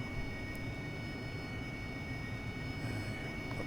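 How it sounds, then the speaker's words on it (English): AV-8B Harrier jet in the DCS simulator preparing a VTOL takeoff, a steady, faint cockpit engine drone with a constant whine and no change in level. "I'm going to be taking off in VTOL mode."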